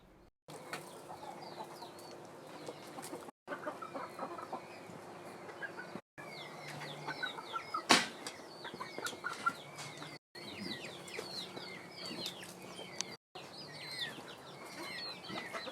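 Chickens cluck and a rooster calls at a private animal collection in Qobayat, Akkar, with steady outdoor bird chatter and chirps running throughout at moderate distance, broken by a few brief cuts.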